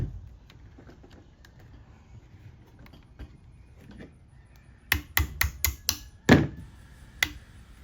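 A small hammer taps retaining pins into a Remington 870 shotgun trigger assembly, giving a quick run of sharp metallic taps and one louder knock after faint handling clicks.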